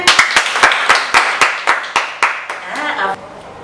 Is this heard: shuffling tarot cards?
no